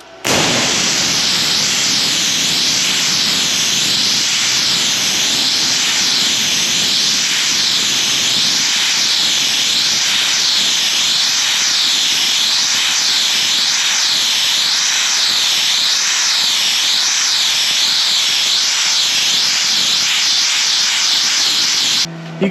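An Arccaptain CUT55 plasma cutter run in rust removal mode over a rusty rotor gives a loud, steady hiss with a wavering bright edge. It holds without break for about twenty seconds, close and alone.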